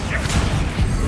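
A Bombarda spell blast in the Hogwarts Legacy video game, heard as a loud, continuous crashing rumble that lasts the whole moment, with heavy low-end impact surges and no talk over it.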